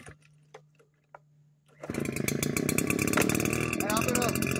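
Farmertec backpack leaf blower, a Redmax 8500 clone, quiet at first with a few faint clicks before its two-stroke engine fires and settles into a loud, steady close-up roar.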